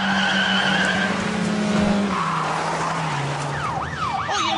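Car tyres screech in a long, loud skid during a police pursuit of a Ford Mondeo, followed by a rising and falling siren wail with no talk.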